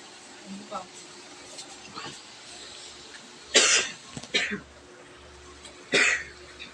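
A few harsh coughs spaced apart over faint background noise, with softer throat sounds and a bit of quiet talk earlier, while duck adobo is being cooked.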